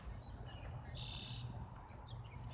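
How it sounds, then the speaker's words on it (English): Birds chirp and call faintly in a nature preserve, short tweets scattered over a quiet low outdoor hum, with one clearer whistled note in the middle. "I just wanted to come out here and listen to the birds"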